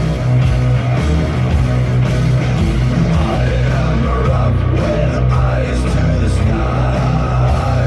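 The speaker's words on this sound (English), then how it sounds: "glam rock drums" Glam rock drums, recorded in a corridor, pound steadily and loudly inside a dense full-band mix that continues without pause throughout.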